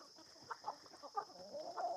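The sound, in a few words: chickens, hens and roosters clucking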